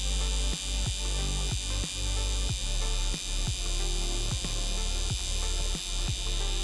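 A permanent makeup machine needle works on powder brows in a brow cover-up, giving a steady close electric buzz with regular short pulses as the pen moves across the skin, no talking.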